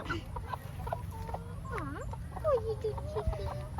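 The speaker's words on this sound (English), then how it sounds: "That is called a broody chicken for those who don't know." A broody hen makes low, drawn-out clucks and a few rising and falling murmurs, close by over faint background noise.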